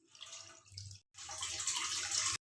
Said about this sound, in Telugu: ఇలా వాటర్ని వంపేసుకుంటున్నాను.